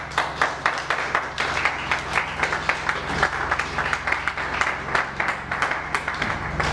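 A church congregation claps in a steady, rhythmic beat, the applause loud and continuous throughout, with a low musical drone sustained underneath.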